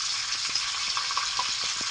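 Food fries in a pan, a steady bright hiss with a few soft pops and light clicks, close and continuous without any voices.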